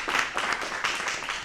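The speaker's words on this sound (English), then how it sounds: "Round of applause for everybody." Brief applause at a school board meeting, a room of people clapping together in a soft, steady patter for a second or so.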